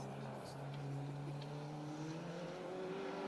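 A Peugeot 205 GTI rally car approaching on a gravel stage of a Welsh rally: a fairly faint, steady engine drone whose pitch climbs gradually as it draws nearer.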